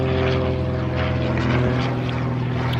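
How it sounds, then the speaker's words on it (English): A propeller-driven airplane drones steadily overhead, its low engine hum and harmonic buzz loud and continuous throughout, with no talk over it. "Oh, here we go, we got a plane. Taking a plane break."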